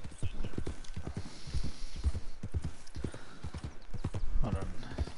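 Horse in Red Dead Redemption 2 online trotting with steady, close hoof clip-clops and an occasional whinny, while someone talks over the game sounds throughout.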